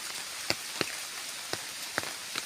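A handful of sparse, distinct drops tap on a surface against a steady hiss of background rain, with no voices present.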